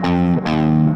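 Distorted electric guitar plays a sustained single-note chorus line, two held notes with a brief break between, loud and up close with no talk.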